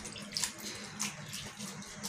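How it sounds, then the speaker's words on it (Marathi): Wild leafy greens are scrubbed and rubbed by hand under running water, a close, continuous splashing and trickling wash with small bursts of agitation throughout. "धुवायची, चोळून चोळून, जसे आपण कारल्याची भाजी धुतो एकदम मस्त घासून चोळून."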